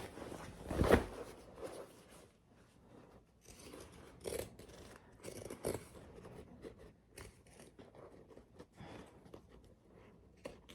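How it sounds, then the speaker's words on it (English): Scissors cut along the top seam of a fabric bag in a quiet room, a loud close snip followed by softer, irregular clipping and rustling of cloth, with no talk. "we've trimmed the seam on the top all the way around"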